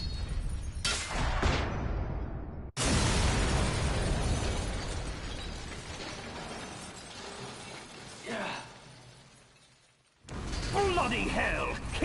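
Metal Gear Rex's radome is destroyed in a Metal Gear Solid cutscene. A sharp shattering blast hits at about three seconds and rolls into a long, loud rumbling roar that fades away. Quieter effects come before it and voices come at the end.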